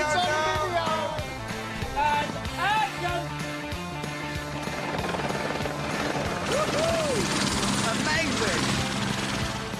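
Helicopter ferrying a film crew up a mountain near Queenstown, with a continuous loud rotor and engine thrum throughout and people talking and exclaiming over it.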